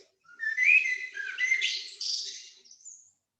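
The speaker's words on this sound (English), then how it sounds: "Look, it's a bird." A single bird calls alone in a classroom listening exercise recording, a bright warbling whistle lasting about three seconds against silence.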